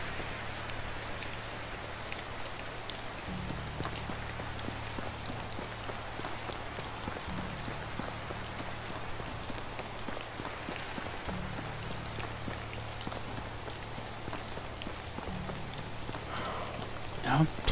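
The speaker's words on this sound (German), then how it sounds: "Trotz leichtem Regen sieht es irgendwie schön aus." Light rain falls in the medieval game Medieval Dynasty as a soft, continuous patter, quiet and even, with a low rhythmic hum beneath it and a faint clatter near the end.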